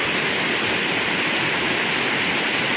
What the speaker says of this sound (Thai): มันเป็นน้ำป่าไหลหลากบวกกับ น้ำตกนะครับผม